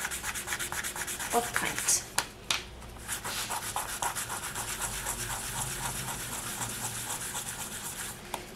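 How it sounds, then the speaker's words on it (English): A polymer clay pendant is rubbed with 400 grit sandpaper to remove excess paint, giving fast, rhythmic scratchy strokes close up, and a voice speaks briefly over the sanding. "I've got my sanding papers here. I'm going to start with the 400 grit."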